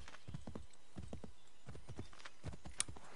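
Horse hooves clip-clopping at a steady walking rhythm in the video game Assassin's Creed 3, close and clear, with a brief sharp high accent near the end.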